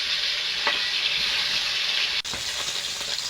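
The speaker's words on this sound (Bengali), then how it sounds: "বাকি মাছগুলো ভেজে নেব।" Tilapia fish fry in hot oil in a wok, giving a steady loud sizzle with a few soft scrapes and one brief break midway.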